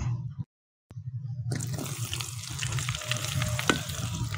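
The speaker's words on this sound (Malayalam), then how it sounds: "ഇനി നമുക്കിതിൽ ഈ അരിഞ്ഞു വെച്ച ഉള്ളിയും പച്ചമുളകും ഇതിലിടാം." Chopped onion and green chilli frying in hot oil, a steady broad sizzle with crackling that drops out briefly near the start, then returns louder with scattered pops.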